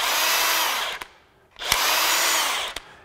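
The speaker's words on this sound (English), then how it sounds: "I noticed that this tool seems to hold some of the RPM coming off" A Craftsman V20 brushless 1/2-inch drive high-torque impact wrench whirs loudly and shuts off around the one-second mark, then spins up again briefly and winds down once more. The motor slows freely with no braking, and each release ends in a small click.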